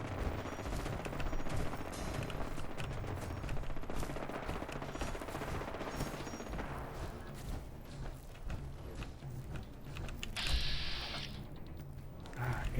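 Gunfire from a pipe weapon in Fallout 4, rapid continuous bursts of shots filling the whole stretch, loud and close, with a brief hissing burst near the end.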